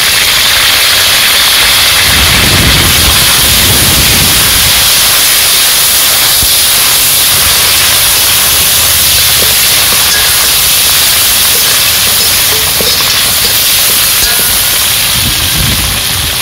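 Mustard seeds and curry leaves sizzle in hot oil while mutton liver fry is being made. A loud, steady frying hiss carries on unbroken throughout.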